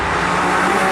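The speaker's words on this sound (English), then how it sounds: "if I turn DSC off now, we're wheel spinning in 5th gear" A tuned manual BMW 135i E82 with stability control off spins its wheels in fifth gear, giving a loud, close, sustained engine roar with a rushing road noise over one second.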